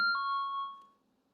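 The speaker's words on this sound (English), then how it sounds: "Oops, sorry, that's my alarm." A phone alarm chimes once, a bright electronic tone that rings clearly, then a sustained note that fades out within a second, leaving near silence.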